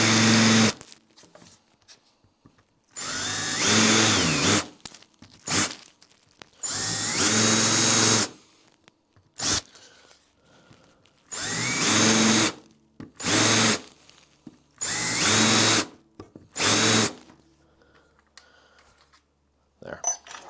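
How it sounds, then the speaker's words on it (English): A power drill cuts countersinks into a wooden guitar backplate in a series of loud, whining bursts of a second or two each, separated by short pauses, close to the microphone with no talk. "Then let's do the countersink so the screws sit nice and flush."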